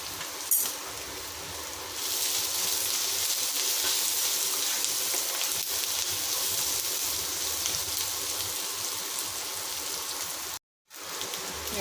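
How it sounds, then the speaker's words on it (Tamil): Onions sautéing in a pan for a chicken gravy, giving a steady, broad sizzle that holds evenly for most of the stretch before a brief cutoff, with no talking. "வெங்காயம் நல்லா வதங்கட்டும் கொஞ்சமாக உப்பு போட்டுக்கலாம் வதங்கிட்டு"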